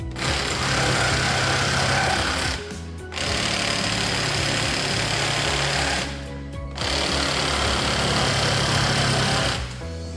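An electric saw cuts through a coated board for a custom office bookshelf, with three long, loud, buzzing runs separated by brief pauses, close up.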